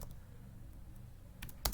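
A few quiet keystrokes on a computer keyboard as a command is typed into a Linux terminal, with a short burst of clicks near the end over a soft room hush.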